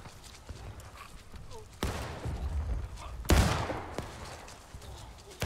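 Musket volleys crackle across a Civil War battlefield in the game War of Rights, with two heavy bursts of massed gunfire among scattered distant shots and rolling battle noise.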